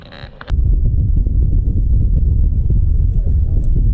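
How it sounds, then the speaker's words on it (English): Wind buffets a boat out salmon fishing on the Feather River, a loud, close rumbling roar that starts abruptly and keeps blustering against the microphone. "that wind's just kind of blowing us around"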